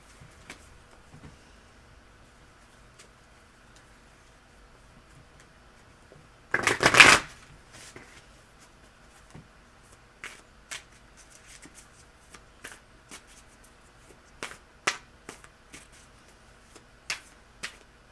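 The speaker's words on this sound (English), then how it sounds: "I've shuffled it to death." A deck of tarot cards is shuffled in one brief, close riffle burst, followed by scattered soft taps and clicks of cards being handled in an otherwise quiet room.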